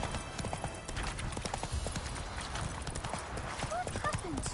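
Hooves of the horse Roach clip-clopping in The Witcher 3, a steady rhythmic run of hoofbeats with game ambience and speech underneath.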